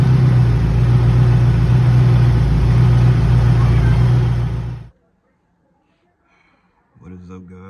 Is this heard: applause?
no